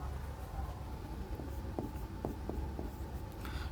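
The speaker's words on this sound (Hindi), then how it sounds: "मैं लिखता हूं इसको" A teacher writes numbers during a Class 9 history lesson, making a short series of faint scratching strokes over a low, steady background hum.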